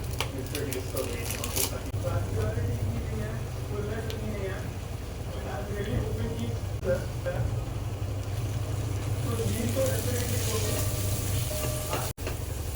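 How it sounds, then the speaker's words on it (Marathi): Capsicum and soya chunks with pav bhaji masala and spices fry in hot oil, giving a steady loud sizzle throughout while someone talks over it. "हे मसाले एक सेकंड आपण मस्त असे तेलामध्ये फ्राय करून घेऊया"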